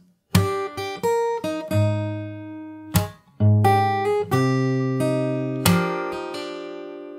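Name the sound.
fingerstyle guitar, song part played slowly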